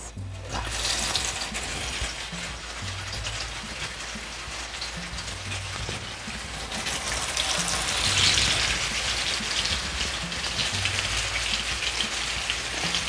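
Fish dropped into hot oil for a Hyderabadi-style fish fry, giving a loud, dense, continuous sizzle and spatter that swells slightly midway and holds steady to the end.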